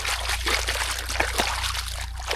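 Water trickling and splashing steadily as hands and feet are washed outdoors at a tribal village campsite, with a constant low hum underneath and a few louder splashes.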